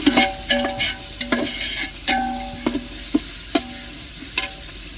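Ginger garlic paste with coriander and mint sautéing in a pan, a steady sizzle broken by repeated scraping stirs with sharp clacks against the pan, close and fairly loud with no talk.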